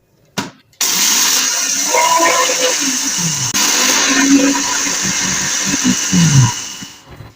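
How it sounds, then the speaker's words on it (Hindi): A kitchen mixer grinder coarsely grinding chaat masala spices whirs loudly after a brief start, grinding for several seconds with rattling and shifting pitch before spinning down. "अब हम इस मसाले को मिक्सी में डालेंगे और दरदरा सा पीस लेंगे।"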